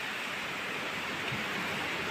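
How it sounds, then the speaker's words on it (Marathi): Heavy rain falls in a steady, dense hiss during a thunderstorm, pouring on steps where water is pooling, loud and even, with no voices. "सुरू झाला बघा आणखी पाऊस थोडा"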